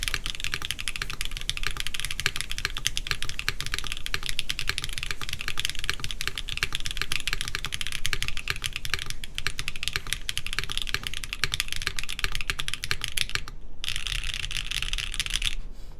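A mechanical keyboard on a KBDfans Tofu65 3.0 build types in steady, rapid clacking keystrokes, close and continuous, with a brief pause near the end before the typing resumes.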